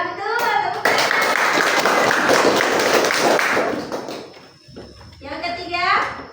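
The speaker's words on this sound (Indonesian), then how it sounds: "Ya, betul, tepuk tangan." Schoolchildren in an Indonesian classroom clap together in a loud burst of rapid applause that lasts a few seconds and then fades, with children's voices and a teacher's speech before and after.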